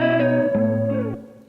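Guitar processed through Unison Sound Doctor, sustained harmonic notes with a rich, effected tone and a short change partway through, fading out near the end with a brief bright burst at the close.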